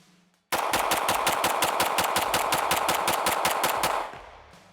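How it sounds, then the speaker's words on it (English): A Bul Armory 2011 Tac Pro pistol is emptied in a rapid-fire magazine dump, roughly twenty loud, close shots in a fast, steady rhythm lasting about three and a half seconds, then fading echo. "For good measure, we'll do a good mag dump."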